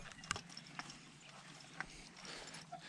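Draft horses' hooves clip-clop on a farm in the Lviv region: a few sparse, sharp hoofbeats, faint against a quiet outdoor background.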